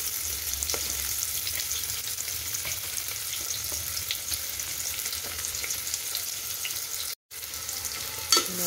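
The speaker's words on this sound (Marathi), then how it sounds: "कांदा थोडासा परतवून घ्यायचा आहे." An onion sautéing in a pan, a steady bright sizzle of frying that runs continuously with faint stirring, broken by one brief gap near the end; no speech.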